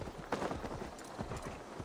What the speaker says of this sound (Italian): voglio prendere un cavallo.